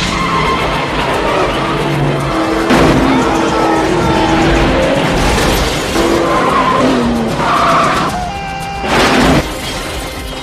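In an action-film chase, a car skids with long tire squeals and slams into a roadside barrier, with loud crunching impacts and shattering bursts in a dense, close mix.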